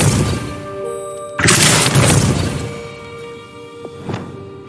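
Depulso repelling spell cast in Hogwarts Legacy, a sudden loud booming whoosh-burst that swells and fades over a couple of seconds, followed by a smaller thud, over a humming game ambience.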